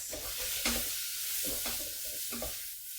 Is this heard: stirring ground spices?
yes